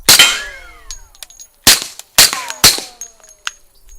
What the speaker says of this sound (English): I can hear a lot of bullets hitting little rocks and whizzing up into the air